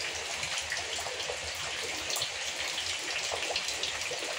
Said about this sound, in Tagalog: malakas ulan eh.